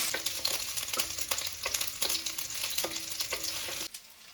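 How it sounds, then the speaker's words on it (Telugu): Chopped small onions frying briskly in a tablespoon of oil for a spicy Andhra chilli chicken curry: a steady, close sizzle broken by stirring scrapes, then a sudden drop to near quiet at the end. "ఓ టేబుల్ స్పూన్ ఆయిల్ వేసుకుని ఇందులోని ఓ రెండు చిన్న ఉల్లిపాయలు ఇలా ముక్కలుగా కట్ చేసుకుని వేసుకుని జోరుగా వేయించుకోవాలి"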